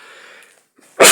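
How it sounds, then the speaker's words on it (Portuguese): After a short breathy pause, a man giving a spoken Bible lesson lets out a single sharp, loud sneeze close to the microphone. "hoje já tossi, agora espirrei"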